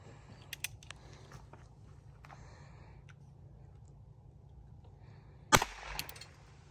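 A Ruger Wrangler .22 single action pistol fires one sharp, sudden shot that stands out against an otherwise quiet background, preceded by a few faint clicks.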